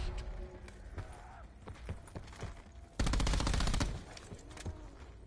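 Gunfire from a video game, with sharp separate shots early on, then a loud rapid automatic burst lasting about a second, followed by more scattered reports.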